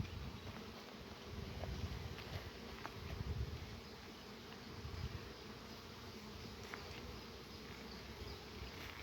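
Honeybees buzzing around a beehive during a spring hive check, a dense steady drone of many bees close by with no talking.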